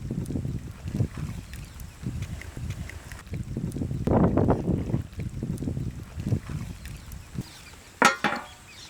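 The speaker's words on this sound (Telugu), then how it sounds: "చల్ల గాలి వస్తుందండి" Cool wind blows outdoors, buffeting the microphone in low gusts that rise and fall, with a brief sharper noise near the end.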